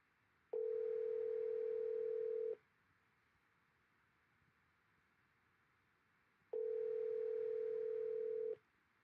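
While a call is placed back to a lawyer, a telephone line sounds two steady, clean tones, each about two seconds long and six seconds apart, over faint quiet line hiss.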